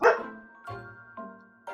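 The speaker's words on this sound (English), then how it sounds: "you can hear Bella there. I apologize for the dog" A dog barks three times in separate bursts, the first loudest and the later ones softer, each with a ringing tonal tail, heard indoors with no talking.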